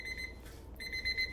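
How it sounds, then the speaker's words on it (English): A kitchen timer goes off while food simmers on the stove, beeping in quick repeated pulses with a short gap midway, fairly faint and alone. "so there's my timer for my 10 minutes"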